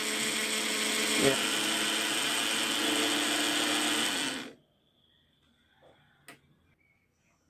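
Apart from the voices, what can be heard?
AC motor running, rotor spinning clockwise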